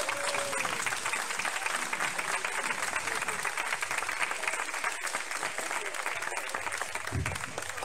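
Sustained audience applause after a folk dance performance by a gaucho folk troupe, dense steady clapping from a crowd filling the room throughout, with brief murmurs of voices mixed in.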